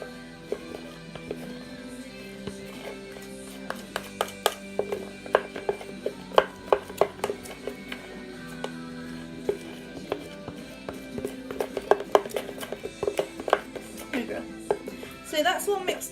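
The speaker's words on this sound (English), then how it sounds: "the chocolate's just like going hard already, and you just whisk this in together" Whisk working egg yolk into melted, stiffening chocolate in a bowl, irregular rapid clicks and scrapes of metal against the dish over sixteen seconds, with a person talking throughout.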